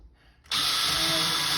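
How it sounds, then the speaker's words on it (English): An electric drill bores a hinge hole in a cabinet door for a soft-close full overlay hinge, starting abruptly after a brief quiet and whining loud and steady up close. "And you drill your hole."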